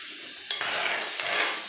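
Boiled water poured into a hot pan for a lemon peel date pickle, a sudden sizzling hiss that swells and bubbles for over a second, close and moderately loud.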